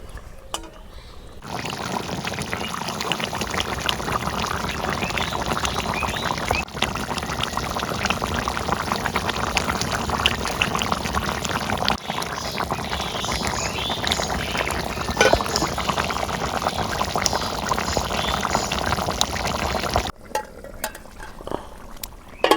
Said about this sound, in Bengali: এখন একটু ঝোলের পানি দিয়েছি